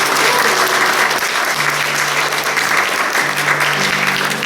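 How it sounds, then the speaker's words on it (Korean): A church congregation at an Easter Sunday service breaks into loud, sustained applause that fills the room evenly throughout, with no speech over it. "우리 우물가 여성교회에서 박수 한번 좀 보내주시기 바랍니다."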